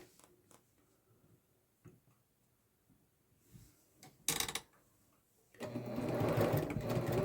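A sewing machine stitches around the edges of a messenger bag pocket: faint handling clicks and taps at first, then a short burst of stitching, and finally a sustained, louder run of steady stitching near the end.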